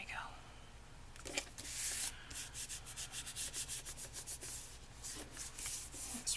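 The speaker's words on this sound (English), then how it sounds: "Let's rub that down real well" Paper is firmly rubbed down onto a paper bag journal, a series of rhythmic brushing strokes close up, repeated back and forth after a short pause, with faint murmuring nearby.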